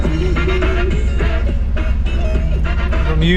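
Music with a steady beat and melody plays loudly throughout, sounding boxy and enclosed as if from a car stereo.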